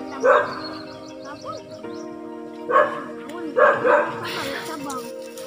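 A dog barks a few times in short bursts, close and fairly loud, over a steady musical tone in the background.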